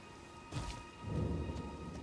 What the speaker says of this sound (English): a weapon with fire isn't really gonna help when it's raining